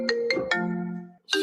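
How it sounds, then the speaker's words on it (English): A mobile phone rings nearby with three quick bright melodic tone bursts that ring out and fade, then the ringtone starts again after a brief gap, with no one talking. "I don't know if you heard my phone ring."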